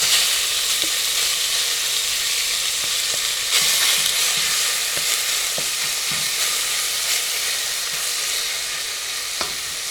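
Beaver meat browning in melted butter in a pot gives a steady, dense sizzle throughout, with occasional sharp pops and spatters and faint stirring; no one speaks.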